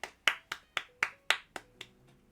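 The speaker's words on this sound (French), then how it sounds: "Applaudissements de la part de tous." About eight crisp, evenly spaced hand claps ring out close by in a steady rhythm, each sharp and briefly echoing, fading slightly in strength toward the end, with no talking.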